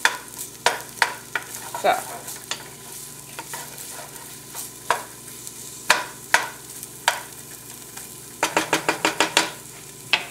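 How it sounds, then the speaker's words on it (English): Onions and garlic sauteing in a pan for homemade spaghetti sauce: a steady close sizzle under repeated sharp utensil scrapes and taps as the mixture is stirred, with a few quick clustered clicks near the end. "you're going to let the onions and garlic saute for about 3 to 5 minutes until the onions start to get translucent"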